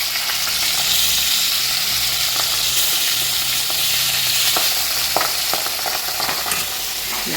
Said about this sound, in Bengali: মাছগুলি ভেজে নেব এখন।